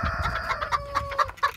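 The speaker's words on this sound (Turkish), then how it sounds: "Horozum burada, tavuğum burada, diğer horozlar." Roosters and hens cluck in short repeated bursts close by on a farm, a few birds calling over one another in quick succession.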